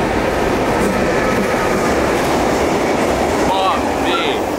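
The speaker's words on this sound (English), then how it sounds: "We have to dodge the trains together." A train passes close by on a railway line in Slovenia. It makes a loud, continuous rumble and clatter throughout, with squealing tones near the end.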